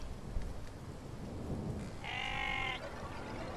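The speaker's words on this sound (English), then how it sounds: "Something's bothering that sheep." A sheep bleats once in the Irish countryside of the video game 1711 Ireland: A Witch's Fate, a clear, wavering call under a low rumbling ambience of wind or distant thunder.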